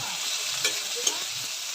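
Boiled potatoes stir-fry in a pan with a steady close sizzle and two soft knocks of a spatula against the metal.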